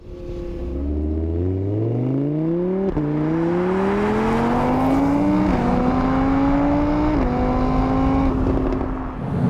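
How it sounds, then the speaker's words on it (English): Naturally aspirated V10 engine of an Audi R8 V10 Performance accelerating hard, loud and close, revving up through the gears with a rising howl broken by quick shifts and no talk over it. "there's nothing like having a naturally aspirated engine, and the Audi V10 block is one of the best in the game."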